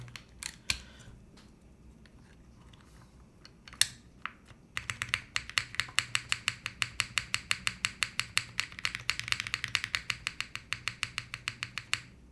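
Typing on a Geist mechanical keyboard build fitted with ABS keycaps, a few scattered clacks giving way to a fast, steady run of crisp close keystrokes, with no talk.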